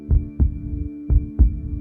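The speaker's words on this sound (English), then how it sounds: "heart pounding so loud I was sure he could hear it" Heartbeat sound effect: deep, close thumps in lub-dub pairs, two double beats in a slow, even rhythm over a low hum.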